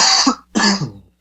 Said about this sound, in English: Bless you. Bless your cough.